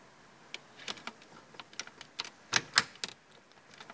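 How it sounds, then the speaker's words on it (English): Metal radio removal keys click into the slots of a Ford Focus car radio, a string of sharp, close ticks with two louder snaps near the middle. "Hear the click in? They click in"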